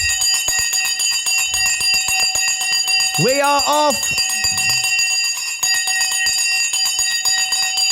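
A bell rings out in a short burst of a few bright strokes, clear above steady background noise, with a brief spoken phrase nearby.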